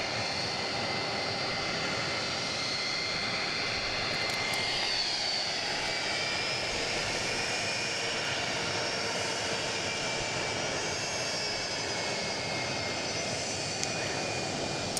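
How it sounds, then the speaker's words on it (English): A departing jet airliner bound for Rockford roars steadily at an airport, a broad sustained engine rumble and whine that holds throughout with a faint rising tone, no talk over it. "this flight going to Rockford"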